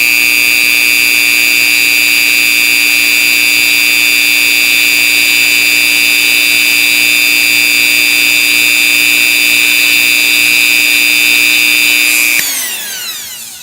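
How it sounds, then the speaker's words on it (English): Dremel rotary tool spinning while shaping a lock pin: a loud, steady high-pitched whine held for about twelve seconds, then winding down as the motor stops, close up with no talking. "so we're going to spin the Dremel up again"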